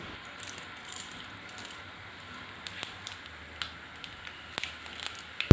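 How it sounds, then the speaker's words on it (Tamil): Mustard seeds splutter in hot oil in a kadai while making uppu urundai, giving faint scattered pops and crackles over a soft sizzling hiss that grow busier toward the end, with one sharp louder pop. "கடுகு நல்லா பொரிஞ்சதும்"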